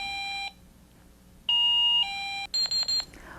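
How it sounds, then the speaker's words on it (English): A bed sensor alarm goes off when a patient gets up, sounding repeated loud electronic two-tone chimes with short gaps, then a quicker burst of beeps. "the alarm will sound the moment they try to get up"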